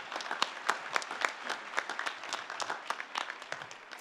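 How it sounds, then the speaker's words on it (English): A high school graduation audience at Hillsboro Stadium gives a round of applause for a school district superintendent, many hands clapping at a moderate distance with individual sharp claps standing out, steady throughout. "let's give Superintendent Scott a huge round of applause for everything he's done"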